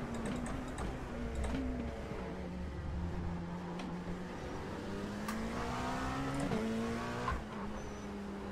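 Dallara P217 prototype race car in iRacing at the Nürburgring, a loud sustained engine whine shifting pitch through gear changes, with tyre squeal and skidding as the car slides, continuous and close.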